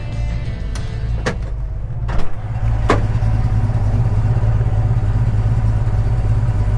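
A 1974 Oldsmobile Cutlass Supreme idles with a steady, loud, low engine rumble. A few sharp clicks and knocks come early before the idle settles into a constant drone.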